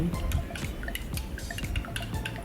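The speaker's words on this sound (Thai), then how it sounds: "แป้งข้าวโพด1ช้อนโต๊ะตามด้วยน้ำ3ช้อนโต๊ะ" Water poured onto cornstarch for a Thai seaweed soup makes close, continuous dripping and trickling with small splashes, and no one talks.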